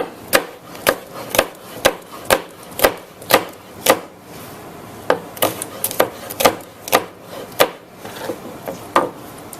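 Knife chopping bell peppers on a wooden cutting board, a steady run of sharp, close taps with a brief pause midway before the rhythmic strokes resume.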